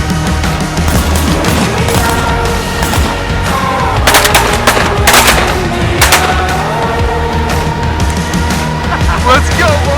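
Shotgun blasts during a waterfowl goose hunt, several sharp reports near the middle of the clip over constant wind and background noise, with voices faintly present.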